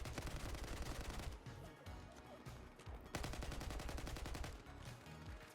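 AK rifle fire in a Battlefield first-person shooter: loud, rapid automatic bursts crackle back to back, with a brief lull near the middle before another dense volley, backed by constant battlefield din.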